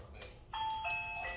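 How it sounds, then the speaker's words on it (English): A Reolink PoE video doorbell being pressed, giving a short, fairly quiet electronic chime of sustained tones that begins about halfway through and rings on to the end. "So when I ring the doorbell,"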